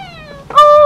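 A cat meows loudly and sharply near the end of a short stretch, apparently crazed after catnip; a quieter harmonic tone fades out before it.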